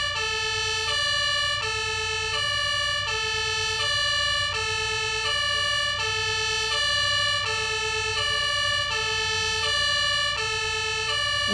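A fire engine siren from the video game Farming Simulator 22 wails in a steady, repeating two-tone pattern, loud and continuous throughout with no talking.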